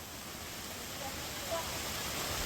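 Heavy rain falls in a steady, even hiss on a road being tarred in Thrissur, a dense continuous wash of sound with no distinct voices standing out.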